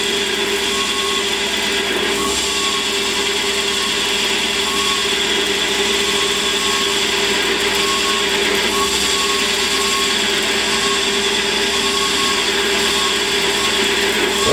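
A lathe turning at about 700 RPM cuts away material on a threaded adaptor, giving a loud, steady, unbroken motor whine and cutting hiss that holds level throughout.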